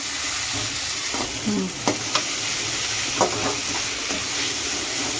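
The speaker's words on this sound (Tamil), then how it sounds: "வெங்காயம் தக்காளி இந்த பச்சை பட்டாணி மூணுமே நல்லா வதங்குற அளவுக்கு வதக்கலாம்" Onion, tomato and green peas sauté in a pan for a vegetable kurma, giving a steady broadband sizzle with a few scraping stirs of a spoon against the pan.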